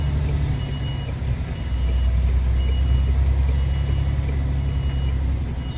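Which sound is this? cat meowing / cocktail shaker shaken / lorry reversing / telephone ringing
lorry reversing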